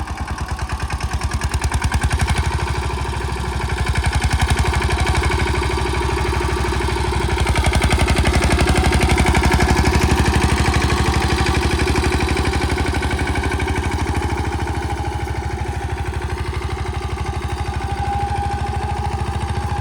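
A Yuvraj 215 15 HP tractor pulls a seven-tine seed drill through a field, its diesel engine chugging in a steady, rapid rhythm. The loud, close sound rises and falls slightly in pitch as the load changes.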